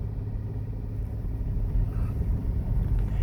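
Car with a 6-speed manual gearbox in low gear on a snowy road in a blizzard, heavy steady low rumble of engine and tires from inside the cabin, continuous with no talk.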